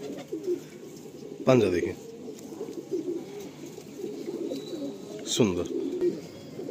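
Giribaz pigeons coo softly and repeatedly in the background while someone speaks over them, with a couple of louder brief bursts standing out.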